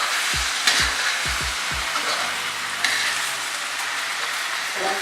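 Vegan drunken noodles (pad kee mao) sizzle loudly in a pan over high heat, a constant frying hiss broken by several low thumps as the noodles are tossed, with no speech.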